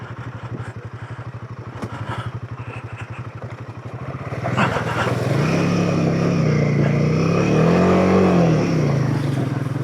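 A Royal Enfield Himalayan 450 motorcycle chugs steadily at idle through a river crossing on a bush track. The engine then swells into a loud, sustained rev with rising and falling pitch amid splashing water.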